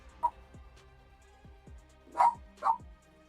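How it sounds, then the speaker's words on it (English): A dog barks from a distance, several short sharp barks spaced out with a gap between the first and the last two, heard over a quiet room with faint background noise. "Why is my dog barking?"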